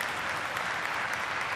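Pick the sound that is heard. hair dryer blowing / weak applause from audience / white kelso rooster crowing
weak applause from audience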